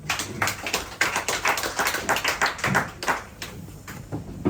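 Clapping from a small audience at a press conference in a café, uneven and fairly sparse, with separate hand claps standing out close by, then thinning toward the end.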